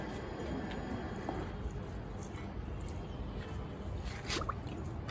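Liquid fertilizer poured from a glass onto garden rose plants makes soft, faint, close-up splashing and dribbling that soaks into the soil, set against a low background hiss.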